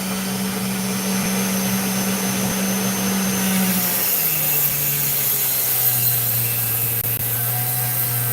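A saw cuts through opal with a loud, steady whining grind. The motor pitch drops partway through as the blade bites into the stone.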